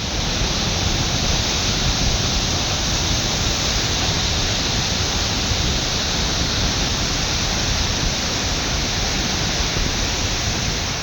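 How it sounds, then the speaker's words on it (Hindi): Flash flood after a cloudburst in Kullu, Himachal, water roaring down a mountain carrying hundreds of tons of debris, a loud, continuous broadband rush with no breaks, heard alone. "सैकड़ों टन मलबे के साथ नीचे आता पानी और उसका शोर"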